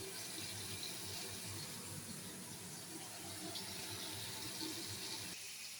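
Water runs steadily from a tap while tengra and bata fish are washed in a kitchen, a constant, fairly quiet rushing splash for several seconds with a small clunk near the end.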